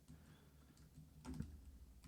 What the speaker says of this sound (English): Aggressive typing there.